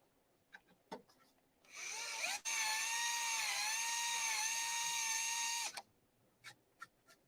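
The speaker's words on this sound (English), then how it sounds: "So this is a straight hole that I'm now countersinking." A drill bit countersinks a straight drilled hole during aircraft restoration, giving a steady, high-pitched whine for about four seconds, with light clicks and taps before and after it.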